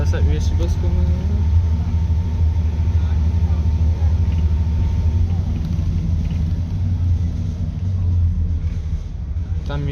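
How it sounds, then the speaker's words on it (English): A former Stagecoach Manchester Dennis Trident Euro 2 double-decker bus pulls in on a city street, its engine a loud, steady low rumble that fills the scene, with a brief voice at the start. "bus coming in."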